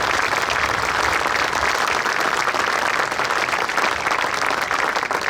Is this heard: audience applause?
yes